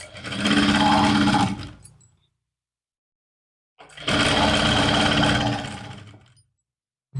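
A sewing machine stitches lining onto a suit in two loud bursts of fast, rhythmic needle chatter, each about two seconds long, separated by a quiet pause with no voices.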